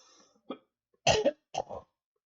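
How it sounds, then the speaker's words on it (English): A few short coughs and a throat clear, close and fairly quiet, in separate bursts with brief silence between them. "apologize for my cough."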